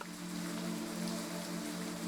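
Rain falls steadily in a video game scene, a soft continuous patter and hiss with a low underlying hum, heard alone at low level.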